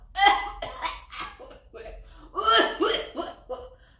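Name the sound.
voice imitating coughing and sputtering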